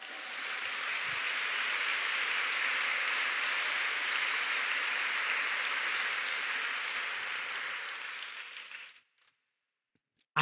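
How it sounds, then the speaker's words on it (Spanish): A congregation at a Spanish-language Christian women's service claps for Jesus in a dense, steady burst of applause for about nine seconds, then it fades out abruptly into near silence. "Dele un aplauso a Jesús"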